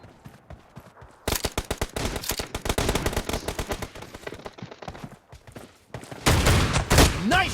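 Rapid bursts of shotgun fire in a video game ring out loud and close, a dense run of blasts from about one second onward, with a heavier, louder volley of shots near the end.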